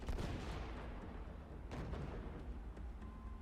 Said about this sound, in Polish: Muszą fajerwerki sobie strzelić, cholera jasna.